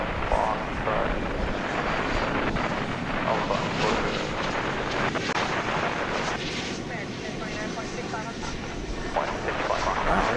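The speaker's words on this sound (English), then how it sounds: "It's an Airbus A321." An Airbus A321 is heard at Dallas/Fort Worth airport as a sustained, broad jet-engine roar, with air traffic control radio chatter running underneath in the background.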